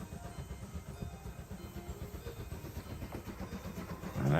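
A train rolls past at steady speed, giving a continuous low rumble with rhythmic clatter of wheels over rail joints, fairly close and building slightly louder at the end, with no voices.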